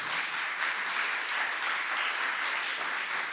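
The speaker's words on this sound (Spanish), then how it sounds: "Lo recibimos con un fuerte aplauso." Sustained audience applause welcoming a guest to a talk on addiction, an even, continuous wash of clapping from a crowd at moderate distance, with no voices over it.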